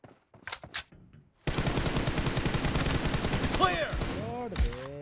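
M416 rifle fire in the mobile game BGMI, a loud continuous automatic burst of rapid shots after a few scattered sounds, with brief voice bits near the end.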